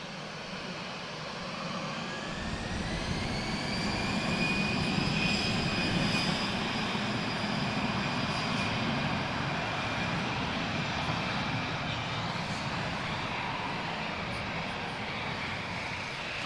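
An Airbus A320-family airliner arriving at Lisbon Airport on runway 02, heard as a sustained, loud jet engine roar with a whining tone that swells and holds steady as the aircraft passes nearby.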